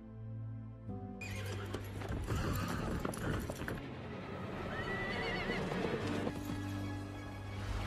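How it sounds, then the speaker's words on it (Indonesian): A horse's hooves clip-clop steadily across a hollow wooden bridge at night while the horse whinnies, all set under a swelling dramatic musical score. "Di malam hari, dia berkuda melewati sebuah jembatan"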